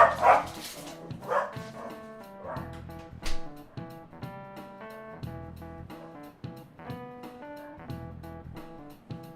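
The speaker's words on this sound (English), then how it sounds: "I'm gonna let Banjo outside to do all the barking" A dog barks in the video game Persona 5 Royal: several short yips and barks over steady melodic background music, fairly close and clear.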